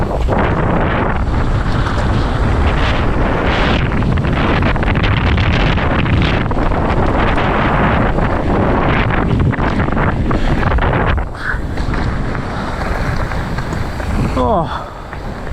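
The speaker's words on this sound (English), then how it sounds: "Oh my god, this wind!" Strong wind buffets the microphone continuously on bike park trails, a loud, roaring rush of gusts filling the whole stretch, with a person's voice briefly heard beneath it.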